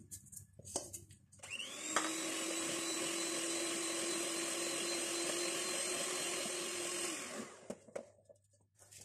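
An electric mixer whirs at a steady high pitch for roughly five seconds, beating caster sugar and oil for a carrot and walnut cake, with brief clatter before it starts and after it stops.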